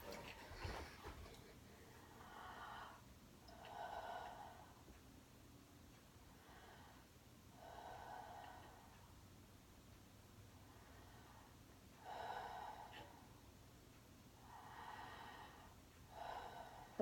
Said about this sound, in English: I would like for you to show me a nice diaphragmatic breath